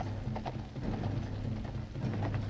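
Horses' hooves clip-clopping in archival World War I footage, a faint, uneven run of hoof beats under a low noisy rumble of old film sound.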